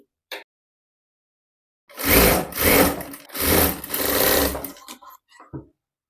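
Sewing machine stitching a long designer blouse: a faint tap, then about three seconds of close, rapid mechanical whirring stitching in two or three surges, followed by a few short clicks.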